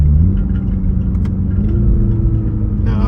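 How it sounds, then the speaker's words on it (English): Engine of a 2023 Toyota Supra 2.0 rumbling and downshifting while approaching a light, a close, steady low drone with a slight pitch change partway through, heard from inside the car without talk. "Coming to a light now, downshift."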